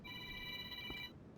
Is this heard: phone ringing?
yes